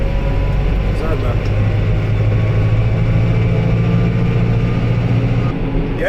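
A New Holland T5.140 Dynamic Command tractor engine runs with a continuous low, heavy drone at a steady level, and people talk over it the whole time.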